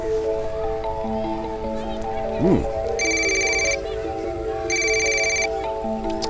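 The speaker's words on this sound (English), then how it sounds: "Somebody's calling on my phone." A phone rings in two electronic trill bursts about a second apart, clear over a steady low hum and room noise, with a brief whooshing sweep just before the first ring.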